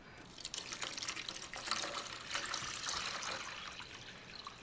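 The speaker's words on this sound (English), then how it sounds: "I will now first just put in a little bit of water so we can observe the nice strong stream" A vinyl record cleaner's in-tank filtration pump pushes out a strong, steady stream of water, giving a continuous splashing hiss that stays close and fairly loud throughout with no talk.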